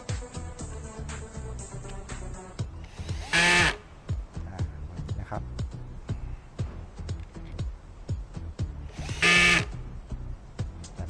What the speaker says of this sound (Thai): เจาะให้ดูนะครับ